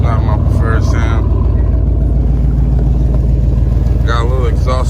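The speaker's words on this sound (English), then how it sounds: "Give it a start. This is what it sounds like now. It has some MagnaFlow pipes." A Chevrolet Silverado SS with MagnaFlow exhaust pipes and an old, slightly leaking exhaust rumbles steadily and loud at close range, with someone talking over the idle.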